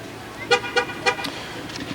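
Fire truck horn honking during a holiday parade, three short loud blasts in quick succession over street crowd noise.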